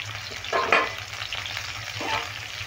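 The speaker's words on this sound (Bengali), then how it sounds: "ঢাকা দিয়ে ভেজে নেব।" Pointed gourd (potol) frying in a pan for a vegetarian dish, with a steady sizzle throughout and a few louder bursts of spitting oil and stirring, heard close with no talking.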